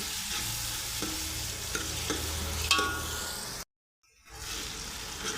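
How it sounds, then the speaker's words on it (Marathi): Chopped onion and tomato fry in a pan for matki usal, a close, steady sizzle with scraping stirs. The sound cuts to a brief silence before the sizzling resumes. "कांदा टोमॅटो आता हे छान असं भाजून घ्यायचं आहे लालसर होईपर्यंत"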